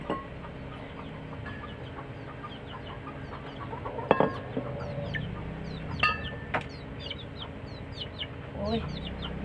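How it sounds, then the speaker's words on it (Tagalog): Chickens cluck and cackle indoors during house cleaning, a few sharp bursts rising over a steady low hum, with brief quieter calls scattered across the scene. "may manok pumasok"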